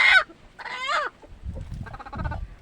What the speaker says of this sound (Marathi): एका कोंबडीने अंडा दिलेला आहे आणि हे आता देण्यासाठी बसलेली आहे